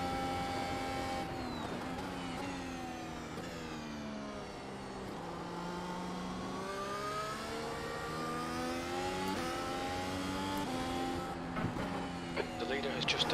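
An F1 car engine in the iRacing sim game at Virginia screams steadily, rising and falling through gear shifts with a constant high-pitched whine, while a voice talks over it.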